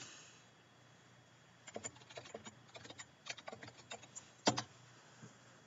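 Quick, irregular bursts of computer keyboard keystrokes, close and fairly quiet, as a search is typed into a web browser, with a sharper clack near the end.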